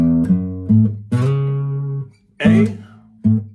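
An acoustic guitar plays a riff with chords mixed in: sustained, ringing plucked notes and strums, with distinct attacks near the start, middle and end and short gaps between phrases.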